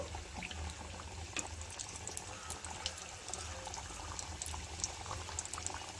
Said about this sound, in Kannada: ನಾವು ನೆಕ್ಸ್ಟ್ ಬ್ಯಾಚನ್ನು ಇದೇ ರೀತಿ ಫ್ರೈ ಮಾಡಿ ತಗೊಳ್ಳೋಣ